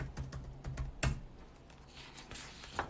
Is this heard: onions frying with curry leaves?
no